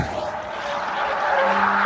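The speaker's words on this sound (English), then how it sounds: "He's holding that drift." A car drifting on a road, tires skidding with a loud continuous squeal and a rising engine tone, close and without talk.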